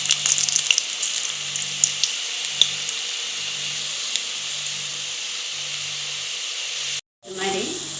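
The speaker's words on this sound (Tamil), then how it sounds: "இதுமாரி எல்லா பக்கோடாவும் பொரிச்சிட்டு காமிக்கிறேன்" Gram flour pakoda fritters fry in hot oil with a steady, dense sizzle and a low pulsing hum beneath, then the hiss cuts out briefly and resumes, as if the pan is moved.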